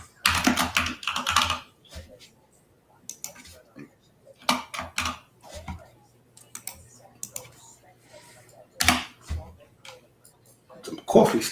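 Bursts of clattering typing on a computer keyboard with coffee-sticky keys, loud and uneven with pauses between runs, during a live trading session.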